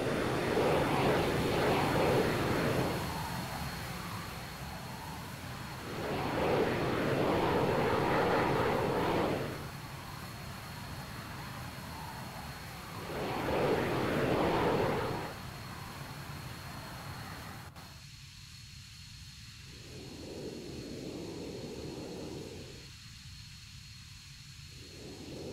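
The A-164 fixed-wing aircraft engine in the game Arma 3 hums steadily at low volume, swelling and fading in repeated surges, with no talk.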